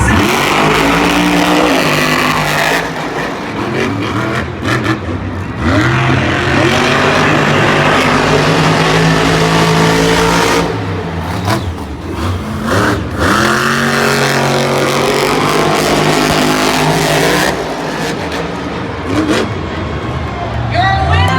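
Monster trucks race at a Monster Jam event in a Cleveland arena, big engines roaring and revving loudly with rising and falling pitch sweeps, under an announcer's amplified commentary and crowd noise throughout.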